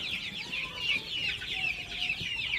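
Small, undersized farm chicken chicks cheeping continuously, a dense high chorus of overlapping peeps close by, steady and unbroken with no talking.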